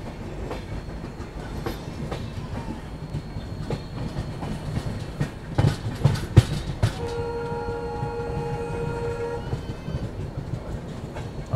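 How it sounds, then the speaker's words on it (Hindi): An Indian passenger train hauled by an ALCO diesel locomotive rolls past with a steady rumble and clickety-clack of wheels over rail joints, and a sustained horn blast sounds partway through. "सामने एल्को लोकोमोटिव के साथ एक ट्रेन है"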